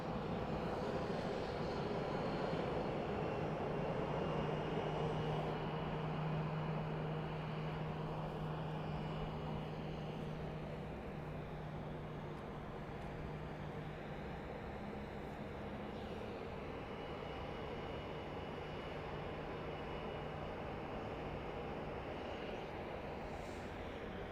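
A passenger jet, likely a Southwest Boeing 737, arriving at Boise Airport on a flight from Denver, heard as a steady, fairly distant engine roar that swells slightly and then holds even for the whole stretch, with no talking.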